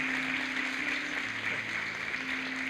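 A congregation at a church prophetic conference claps in a steady, even wash of applause that lasts throughout, with sustained tones, likely music, underneath and no voices.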